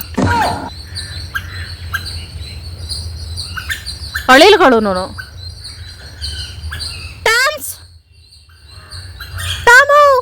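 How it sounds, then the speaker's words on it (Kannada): Several sharp, loud bird squawks in separate bursts, with chirps and a faint insect hum in the background. "ಪಕ್ಷಿಗಳು ಬಡ್ಕೋತಾವಂದ್ರೆ ಅವು ಬಂದೈತೆ ಅಂತ ಅರ್ಥ"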